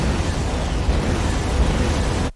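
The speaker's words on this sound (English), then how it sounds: "All of these explosions just cause minimal damage." Explosions in a low-budget Neil Breen film, a dense continuous roaring blast filling the whole clip, loud and close, cutting off abruptly at the end.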